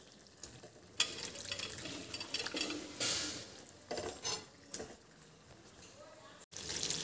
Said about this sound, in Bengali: চিকেন কষানো হচ্ছে